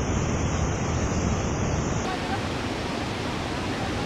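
Waterfall water rushes in a steady loud roar with wind buffeting the microphone, outdoors near Mahadev cave in Pokhara, Nepal.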